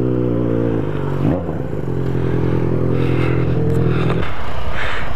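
A Yamaha XJ motorcycle engine runs close by with a steady harmonic drone, briefly shifting pitch as it revs, then settling into a sustained loud hum that roughens near the end.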